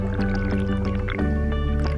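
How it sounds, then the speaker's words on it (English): Spring water gushes up from the center of a spring vent at Itchetucknee, Florida, heard as a steady, close gurgling liquid rush with a tonal hum, shifting in pitch midway. "So you can see the center where the water's coming out."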